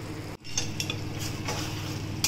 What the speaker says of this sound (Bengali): মশলার সাথে ভালো করে পটলটাকে আমাকে কষতে হবে